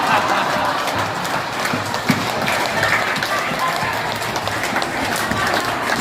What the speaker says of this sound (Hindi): एक बार ताली बजा के खिलखिला के सब लोग प्रभु को